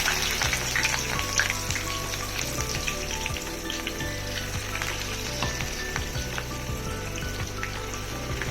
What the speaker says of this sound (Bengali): এইগুলো দিয়ে মোটামুটি একটুখানি আমি গরম করে নেব বা একটু ভেজে নেব অল্প করে